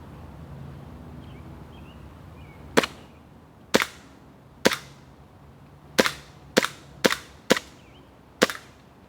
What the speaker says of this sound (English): I'm going to take a couple shots with the spare slide stop in.